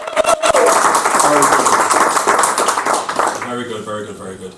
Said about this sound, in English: please give her a round of applause too